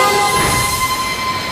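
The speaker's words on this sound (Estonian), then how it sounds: "Kas see on rong Tallinnast?" A train from Tallinn in an animated cartoon rumbles steadily with a sustained whistle-like tone ringing through, loud and continuous, with no voices.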